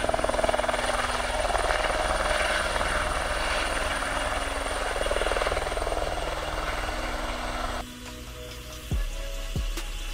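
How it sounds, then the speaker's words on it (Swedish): A helicopter's steady rotor thrum and engine roar in the Ritsem mountains of Swedish Lapland, loud and close, fading somewhat near the end. "man kan även ta helikoptern"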